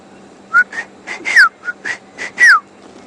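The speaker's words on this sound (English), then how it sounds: "I can just hear the sound of a Shelley's Franklin." A Shelley's francolin calling at sunset in the bush, a rhythmic series of short whistled notes with a couple of sharp descending slurred whistles, fairly near and clear over a faint low hum.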